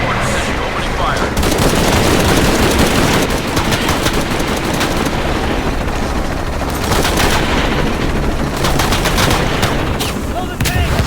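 Rapid bursts of helicopter-mounted machine gun fire in the Shadow of the Tomb Raider video game, loud and dense, sustained for most of the clip with brief lulls and a layer of battle noise.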